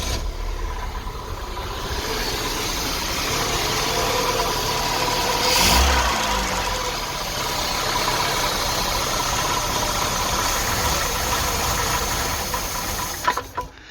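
An Austin Ambassador Vanden Plas with both carburettors running too rich idles steadily, close and continuous for the whole stretch, with a slight swell in revs midway and a brief clatter at the end, no talking.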